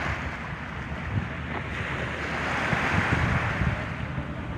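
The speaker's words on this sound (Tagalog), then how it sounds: "Tapos humahampas-hampas yung alon sa dalampasigan." Small waves wash and break steadily against a shore, a continuous rushing hiss with soft surges, heard outdoors with some wind.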